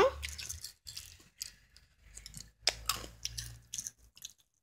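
Wet, squishy chewing of food while eating, in close and intermittent bursts over several seconds with brief pauses and no talking.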